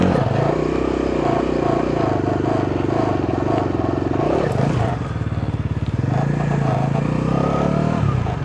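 A motorcycle engine throttled while lifting into a wheelie during a stunt tutorial: a loud, steady, close engine drone that dips briefly midway, then picks back up and holds a throaty rev.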